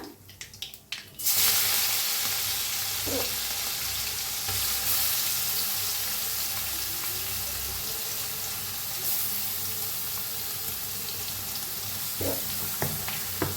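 Mustard seeds, cumin, asafoetida and ground spice paste roasting in hot oil for vada pav, a steady loud sizzle and hiss that starts abruptly and continues with a few faint clinks.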